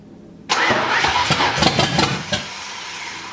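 A Ford 5.0-liter Mustang drift car engine cranks and catches with a sudden loud burst, then runs rough and uneven with a few sharp pulses before settling and fading, close by, no voices.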